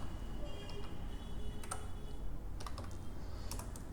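Quiet clicks of a computer keyboard tap out words in a spreadsheet program in short, uneven bursts over a faint background hum.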